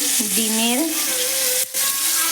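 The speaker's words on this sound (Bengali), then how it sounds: "আর এখানে কুঁদরি ভাজা হচ্ছে।" Ivy gourd fries in a pan with a constant close hiss of sizzling oil, and a brief gliding tonal sound rises near the start.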